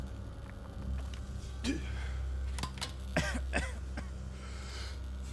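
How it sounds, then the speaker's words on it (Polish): A video game character in the horror game Maid of Sker lets out a few harsh coughs in a short burst, close and fairly loud, over a low steady hum with no talking. "co on tak kaszle?"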